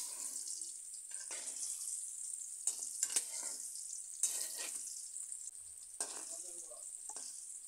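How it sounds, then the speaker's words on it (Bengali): Pumpkin pieces fry in oil in a pan, a steady soft sizzle running throughout with occasional louder crackles and stirring scrapes, close and alone with no talk. "এভাবে আমি মিষ্টি কুমড়াগুলোকে হালকা লাল করে ভেজে নেব।"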